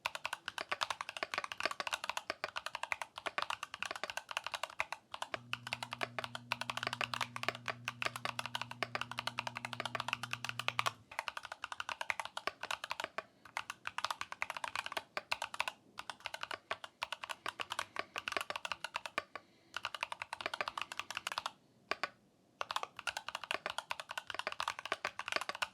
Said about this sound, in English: full assembled mechanical keyboard from Glorious with aluminum case